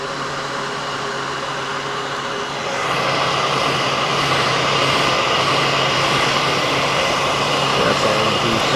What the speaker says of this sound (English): Best way to get the old stickers off is to use a heat gun.